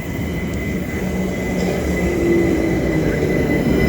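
A full passenger train at Queens Road Peckham station in London, heard as a steady, fairly loud rumble with a faint whine, building slightly as it runs alongside the platform, with no talk.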